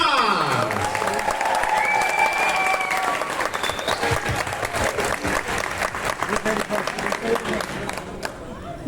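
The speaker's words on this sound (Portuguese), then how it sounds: "Mais palmas!" Steady, warm audience applause greets a guest at a panel event in São Paulo, filling the space with dense, continuous clapping, while a host's voice calls out over it at the start.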